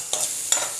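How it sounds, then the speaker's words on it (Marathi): Sweet corn and mixed vegetables being sautéed in a pan for white sauce pasta, with two soft stirring scrapes and a faint sizzle beneath, quiet and close. "आणि एक ते दोन मिनटं फक्त आपल्याला हे परतून घ्यायचे आहेत."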